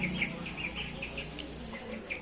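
Chickens cluck and chirp softly in a yard shared with ducks, with repeated short calls in a faint, steady outdoor background.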